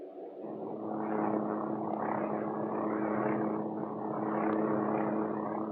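A Hughes OH-6 Cayuse light helicopter cruises in flight with a steady, droning engine and rotor hum that swells slightly, continuous and moderately distant.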